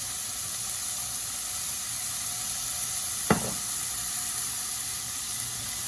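Oil sizzles in a hot pan for crab fried rice, a steady close hiss that flares briefly with a single sharp burst partway through, then settles back into an even sizzle with no talking.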